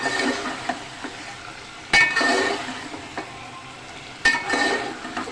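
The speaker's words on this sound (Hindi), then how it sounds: "अब हम इसमें गोश्त ऐड करेंगे और गोश्त ऐड करके खूब अच्छे से हम इसे मिक्स करेंगे" Beef stirred into a pot for beef biryani, with scraping and clinking of a spoon against the pot over a soft sizzle, two sharper knocks standing out.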